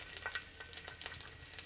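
Thinly sliced thumb-sized ginger frying in a generous amount of hot oil in a wok, giving a soft, continuous crackling sizzle with small pops spread evenly throughout, heard faintly and up close without any voices.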